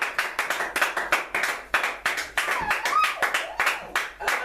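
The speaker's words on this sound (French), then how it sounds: "Acclamons encore très fort les saints." A congregation at a church service claps together for the saints in quick, even, loud rhythmic beats that continue without a break.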